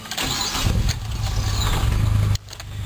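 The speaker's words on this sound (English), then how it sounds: "it's been 10 minutes since we did the seafoam in the intake, and gonna start it up now" A 2002 Mitsubishi Lancer's engine cranks and catches after a Sea Foam intake treatment, a loud close whirring start that settles into a steady idle, then a sudden drop in level near the end with no talk.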